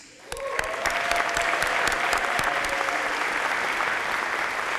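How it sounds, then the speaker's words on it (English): Sustained audience applause for athletic hall of fame inductees at a school ceremony, rising quickly from quiet into a dense, steady wash of clapping that holds loud to the end with a few sharper claps near the front. "please, one final applause for our inductees."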